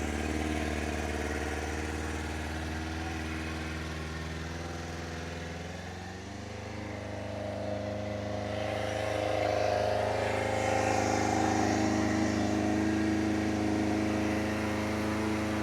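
A carbureted 1999 SRAD 600 motorcycle with a Yoshimura exhaust idles on a cold start with the choke on. The steady, even engine drone holds close by and rises slightly partway through.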